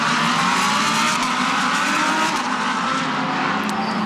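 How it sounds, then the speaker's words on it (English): Audi R8 LMS race cars with V10 engines fire up and pull away at a round of the Audi Sport R8 LMS Cup in Adelaide, Australia, a loud, dense engine roar held steady for the whole stretch with no voices. "You can see the heat haze as the Audi R8s fire up and the V10 engines get them moving."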